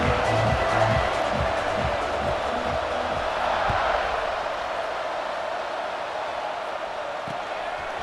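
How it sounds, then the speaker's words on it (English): A crowd in EA Sports College Football 26 keeps up a steady, moderate roar after a touchdown, with a broad buzzing murmur that fades a little over the seconds, while game commentary talks over it. "this crowd is buzzing after that last score"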